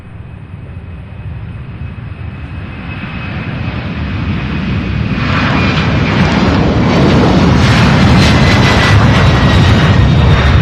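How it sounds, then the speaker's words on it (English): An airliner takes off at Louisville International Airport, its jet engines building from a low rumble into a loud, broad roar that swells and stays strong, heard alone without talk. "Beautiful takeoff."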